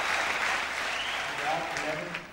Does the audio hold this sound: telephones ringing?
no